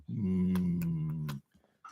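A freshly groomed dog, ears left long after its haircut, gives a sustained low growl with a whiny tone lasting over a second, close and fairly loud, followed by quiet rustling and a brief faint sound.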